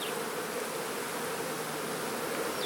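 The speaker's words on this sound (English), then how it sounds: "Those bees over there." Honey bees at a large hive, a dense, steady buzzing hum from many insects, close and continuous throughout with no voices.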